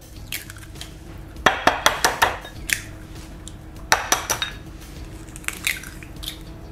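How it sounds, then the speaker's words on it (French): Three eggs cracked into a bowl for quiche batter, giving bursts of sharp clinks and taps against the bowl in two clusters, close and alone. "je vais ajouter mes 3 œufs"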